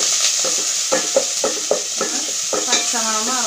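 Green chilli, garlic and ginger fry in a hot pan, a steady sizzle broken by about eight rhythmic stirring scrapes, with a faint tonal ring near the end.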